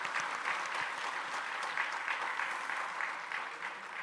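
A church congregation claps steadily, a sustained round of applause from many hands, heard from a little distance with no voices over it.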